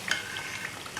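Thattai frying in hot oil makes a faint, steady bubbling sizzle with a few soft crackles over about a second, with no talking.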